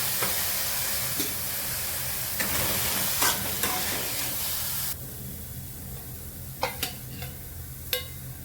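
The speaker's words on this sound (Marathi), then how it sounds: "मी परसबी भाजून घेणार आहे." Green beans (farasbi) frying in a hot kadhai with onion: a continuous bright sizzling hiss that drops sharply partway through, followed by quieter sizzle and a few sharp clinks or scrapes.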